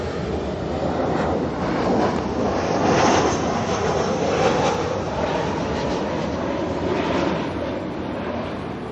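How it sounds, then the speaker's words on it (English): An ASL freighter aircraft comes in to land at Auckland Airport, its engines a broad, continuous roar that swells slightly midway and stays loud, heard from an outdoor spotting location without talk. "ASL freighter there coming in."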